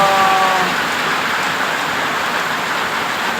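Heavy rain pouring down, a loud dense continuous hiss of drops hitting surfaces that holds steady from start to finish.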